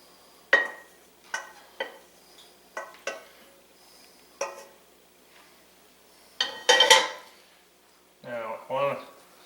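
Pasta and shrimp stirred in a pan with a utensil, a series of sharp metallic clinks and scrapes at irregular intervals, followed by a brief burst of rustling and a voice near the end.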